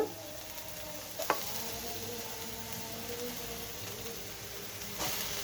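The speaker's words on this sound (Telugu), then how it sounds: "ఇది పన్నీరు ఉల్లిపాయలు టమాటా పచ్చిమిర్చి క్యాప్సికము క్యారెట్ కొంచెం ఫ్రై చేసుకుందాము" Paneer, onion, green chilli, capsicum and carrot fry in a pan with a soft, steady sizzle, a couple of louder stirring clinks standing out over the constant hiss.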